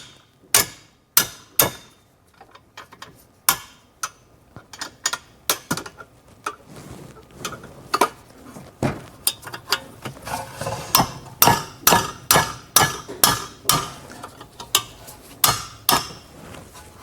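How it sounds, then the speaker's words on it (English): A mechanic works 18mm caliper bracket bolts loose on the rear brakes of a Mercedes S550, a long run of sharp metallic clicks and ratchet-like clacks, sparse at first then quickening into a steady rhythmic series, close and loud. "we're gonna undo the caliper bracket bolt"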